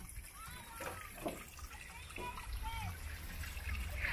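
Children splashing in small filled water pools at a park, light splatters and trickling water mixed with distant kids' voices and someone speaking over it.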